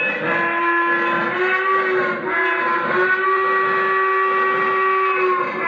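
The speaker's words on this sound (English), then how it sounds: "That's a cool sounding whistle." A model train's steam whistle sounds steadily for several seconds, harmonically rich and loud, with a brief dip partway through.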